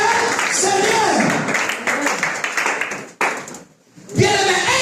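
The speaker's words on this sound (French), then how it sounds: "Est-ce que vous pouvez applaudir pour la gloire de Dieu?" A congregation clapping during a Sunday church service, brisk scattered applause mixed with voices and a raised speaking voice, fading to near silence before a voice resumes.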